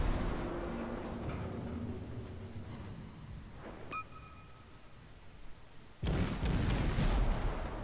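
Naval gunfire in the World of Warships video game: a deep boom rolls out, with a sonar-like ping and a muffled low rumble under it, then a second heavy salvo bursts loudly near the end.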